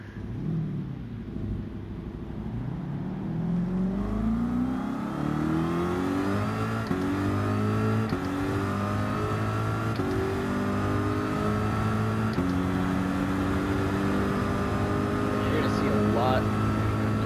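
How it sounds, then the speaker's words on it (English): A race car engine in a NASCAR or Gran Turismo racing video game, revving on track: loud, sustained engine tone that climbs repeatedly in pitch and drops with each gear change, running continuously and close. "So let's race it around the track for a bit."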